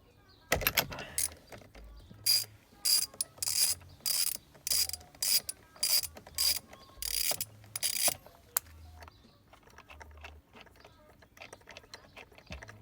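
A 16 mm wrench ratchets a bolt loose on a BMW E90 steering wheel, giving a series of close, bursty mechanical clicking runs with short pauses between strokes, then quieter fiddling.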